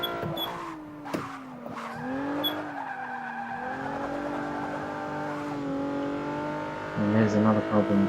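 A car slides sideways through a corner in the Forza racing video game, with a rising and falling tyre squeal and engine tone sweeping throughout and a burst of throttle noise near the end.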